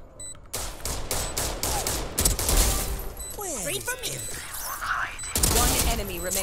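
Rapid bursts of gunfire in the Valorant video game, with dense rattling volleys early on and further shots later, mixed with game effects and a voice talking over them.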